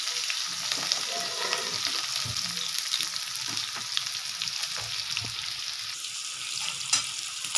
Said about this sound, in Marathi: आपल्याला कांदा छान असा परतून घ्यायचा आहे